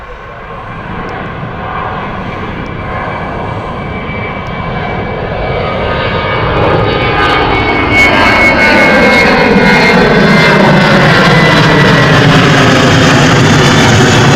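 Austrian Airlines jet airliner taking off at Gatwick Airport, a broad steady engine roar that swells louder over the first half and then holds strong and close, with no talk over it.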